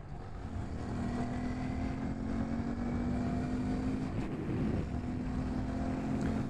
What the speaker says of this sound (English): This is my first time ever riding a Honda Grom